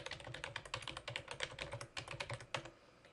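Someone types a login on a computer keyboard, producing a quick, close run of soft key clicks that stop near the end.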